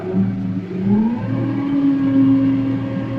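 A Kubota M6 Utility tractor engine revs up with a rising whine, settling into a steady loud drone as it accelerates, close by.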